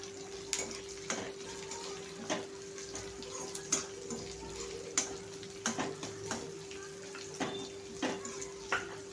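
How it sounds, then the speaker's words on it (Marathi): Square-cut capsicum, onion and shredded cabbage stir-fried on high flame for chilli chicken, with soft, regular tossing strokes and a faint sizzle over a steady low hum, fairly quiet overall. "तर इथं आपण चौकोनी शिमला मिर्च आणि कांदा कट केलाय, तो टाकायचा आहे आपण आणि तो ह्याच्यात छानपैकी फ्राय करायचा।"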